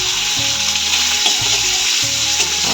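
A medium three-kilogram pond fish frying in a pan, a loud, close, continuous oily sizzle with a few soft stirring scrapes and low thuds.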